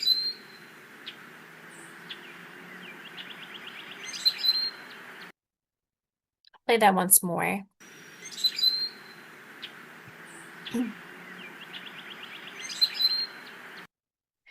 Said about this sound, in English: So it's that high squeaky, rusty gate opening sort of noise, and the notes are slow and separate from each other.